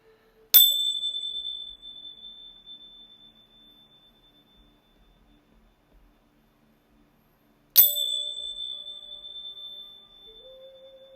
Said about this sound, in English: I'm actually being called to ring these bells